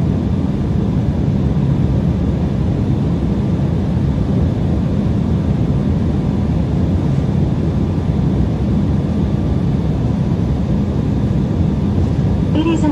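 Steady, loud broadband roar inside an American Eagle Embraer ERJ-175LR jet airliner cabin during descent, continuous engine and airflow rumble with no breaks, the same throughout and heard close.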